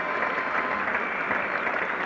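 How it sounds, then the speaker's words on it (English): Cricket crowd at a one-day international at Trent Bridge applauding, a steady, broad wash of clapping from many hands throughout. "And that's brought the crowd to life."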